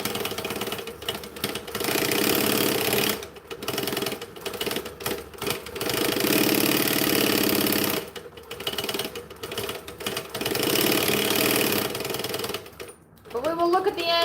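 A sewing machine runs in long stitching bursts while stitching down a zipper during a garment-making session, its motor whirring loudly with brief pauses between runs and a short stop near the end; a voice talks over it.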